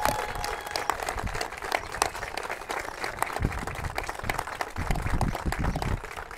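At a breast cancer motorcycle ride kick-off, an audience gives a sustained, even round of applause, many hands clapping at a moderate distance without letup.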